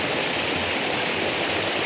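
Steady rushing water flowing along an irrigation channel in Sangulwadi village in the Konkan, a continuous broadband gush heard close and alone with no voices.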